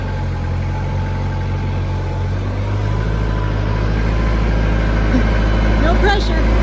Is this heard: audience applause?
no